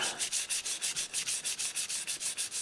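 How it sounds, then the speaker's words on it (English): Steady back-and-forth rubbing of sandpaper wet-sanding water-based acrylic primer, wet and rhythmic, about five strokes a second, close up with no talking. "wet sanding may or may not be a good idea"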